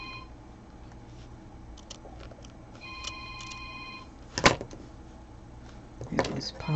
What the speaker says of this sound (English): He just went out to a road run and then his phone is ringing